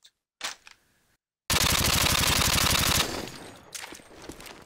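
A Mini Uzi submachine gun fires in a video game: a loud, steady burst of rapid shots lasting about a second and a half, with a couple of short clicks before it and a softer tail of noise afterward.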